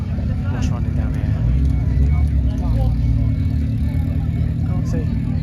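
Close, continuous low burble from V8 engines idling at an outdoor retro car show, a dense steady rumble with faint background voices and crowd noise mixed in.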